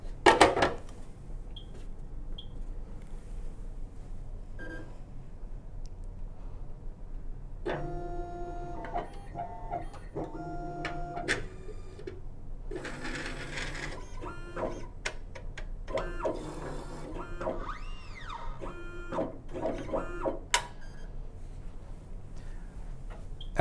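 A BioTek BioStack plate stacker and plate washer running an alignment verify: close, steady mechanical whirring with rising and falling stepper-motor tones, bursts of movement and occasional clicks and clunks, with no voices.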